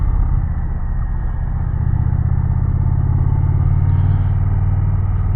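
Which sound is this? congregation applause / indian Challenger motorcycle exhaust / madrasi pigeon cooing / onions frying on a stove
indian Challenger motorcycle exhaust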